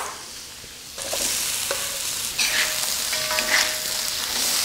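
Vegetables for stir-fry noodles, including peppers, sizzle loudly in a hot pan and are stirred. A quieter hiss swells into a steady, close frying sound with scraping and clinks of the utensil against the pan.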